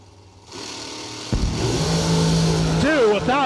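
A dragster race car roars to life at a drag strip during a Christmas bracket race, its engine surging loud and close, revving up with a whining rise near the end while an announcer talks over it.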